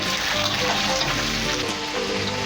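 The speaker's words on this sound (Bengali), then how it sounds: "এইগুলো আমি একটু তেলে ভেজে নেব।" Mixed winter vegetables frying in oil for a vegetable khichuri give a steady, close, dense sizzle that runs unbroken throughout.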